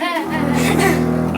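A double bass is played with a bow, drawing one sustained, low, resonant note that holds steady and fairly loud for about a second and a half, with no other sound around it.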